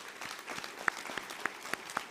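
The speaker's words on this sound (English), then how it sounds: "I'll therefore ask you to join me in giving them a round of applause" Audience at a university graduation ceremony in Windhoek gives a round of applause, a steady wash of distant clapping from a large hall with a few sharper claps standing out.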